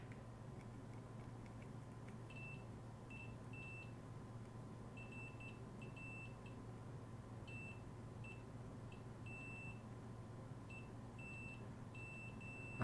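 A multimeter on a nineties cassette boombox circuit gives repeated short continuity beeps in irregular bursts, faint against a low steady hum.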